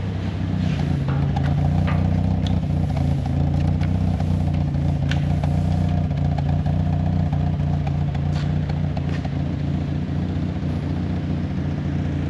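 A Nissan N14 Pulsar's SR20 engine idles steadily after a dyno run, a close, continuous lumpy rumble with faint mechanical clicks and no talk over it.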